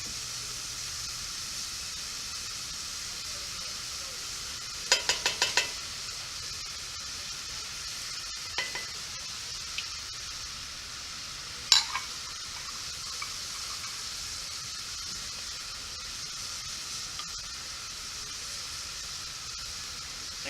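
Freshly minced garlic toasting in a hot pan, giving a faint, steady sizzle throughout with a few soft clicks of a utensil stirring and spreading it out, with no talking.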